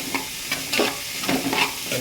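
Six finely chopped medium onions fry in a pan with a steady hiss, broken by several louder scraping stirs of a spoon against the pan, close and loud with no voices.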